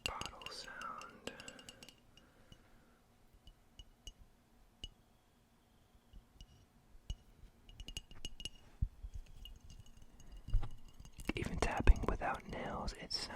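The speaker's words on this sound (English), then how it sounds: "a nice glass bottle sound." Glass cologne bottle handled close up, with sharp small clinks and taps scattered through quiet stretches, whispering in between, and a louder burst of clattering handling near the end.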